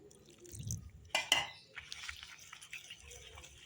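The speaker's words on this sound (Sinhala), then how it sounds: "දැන් අපි ඇල් වතුර ටික ටික දාලා මේ පිටි බැටර් එක හදාගමු" Cold water is added bit by bit to flour batter for kottu roti, heard as faint drips and a couple of short splashy pours with soft clinks in a quiet kitchen.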